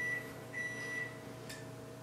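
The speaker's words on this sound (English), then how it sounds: "in a few minutes, the microwave will be done" A household microwave oven runs with a low, steady hum, quiet and alone, while a few faint high beeping tones sound briefly over it.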